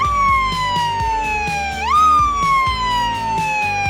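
A police car's loud wailing siren sweeps steadily down in pitch, jumps back up midway, and keeps blaring over a rumbling engine.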